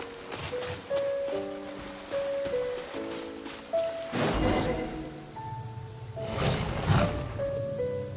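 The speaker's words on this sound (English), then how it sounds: "If this rain keeps up, my fur will be dripping wet." Steady rain falls in Genshin Impact, a continuous hiss beneath melodic game music with brief swells of heavier downpour.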